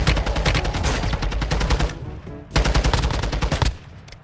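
Automatic gunfire in Warzone Mobile video game: loud rapid bursts close up, one long burst, a brief pause, then another sustained burst that cuts off near the end.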